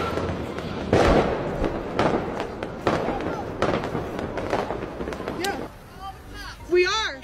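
Fireworks go off in a rapid string of sharp cracks and bangs, loud and close, with voices talking over the bursts throughout.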